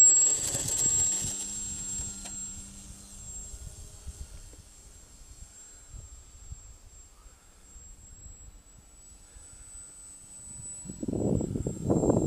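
Small ski-equipped light airplane engine running on ice in cold weather, a steady droning hum throughout with a louder low rumble swelling near the end, plus some thumping and scraping early on.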